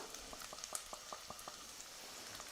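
Tomato paste goes into cooked onions in a hot pan for a cauliflower and green pea curry, bringing soft bubbling and light sizzling with small irregular pops, quiet and close.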